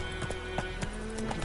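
Hooves of Roach the horse from The Witcher 3, a steady clip-clop of footfalls at a walking pace, close and clear over a constant low game ambience.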